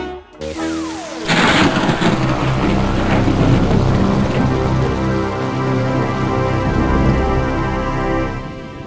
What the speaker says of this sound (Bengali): রাত যত বাড়ছে বৃষ্টির দাপটও তত বাড়ছে যে গো